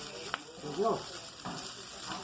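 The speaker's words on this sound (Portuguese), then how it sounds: "aqui a gente vai fritar porque essa panceta ela é crua." Raw pancetta fries in a pan, a soft steady sizzle with faint stirring under a brief spoken remark.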